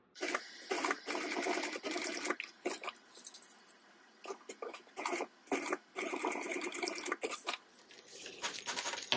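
A sewing machine top-stitches along the fold of a fabric tote bag in several close, steady whirring runs separated by brief pauses.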